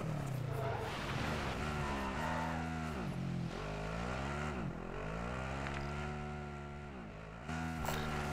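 An engine in a Call of Duty vehicle revs up and down through gear shifts, a sweeping harmonic whine that drops and climbs repeatedly, fairly quiet and alone.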